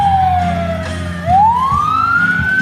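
A fire engine siren wails loudly and close by, sweeping down and then back up in pitch over a steady engine rumble, with no voices.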